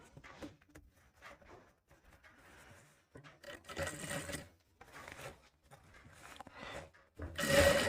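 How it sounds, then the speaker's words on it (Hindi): A sewing machine stitches a seam right at the corner of a katori blouse, its quiet whirring coming in short, uneven bursts separated by pauses, with a louder run at the end. "तो हमने एकदम कॉर्नर पे सिलाई लगाई है"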